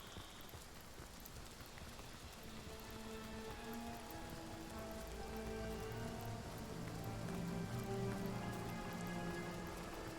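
Rain pours steadily across an outdoor area in Divinity: Original Sin, a dense continuous patter of drops that swells slightly louder over time, heard alone without talk.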